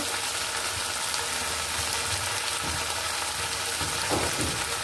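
Salt, turmeric and chilli powder fry in a pan for a fish dish, a continuous close sizzling hiss with a few faint stirring scrapes, no talk.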